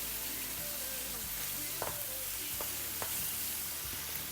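Green chilies fry in hot oil with a steady close sizzle, broken by a few sharp pops and spits and light stirring scrapes, with no talk over it.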